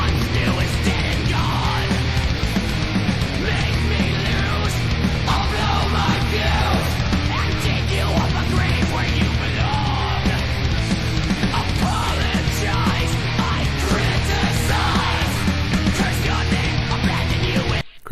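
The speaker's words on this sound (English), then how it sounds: "crazy drums, riffs, screams." A metal song blasts at full volume with pounding drums, dense distorted guitar riffs and screamed vocals, a constant wall of sound throughout that stops suddenly at the very end.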